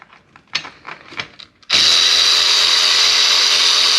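A power tool, likely an impact driver or drill, loosens a track bracket on a KOMOTO X1500 electric snow scooter, bursting in loudly and running continuously after a few quieter knocks and handling sounds.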